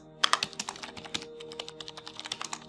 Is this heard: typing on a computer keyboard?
yes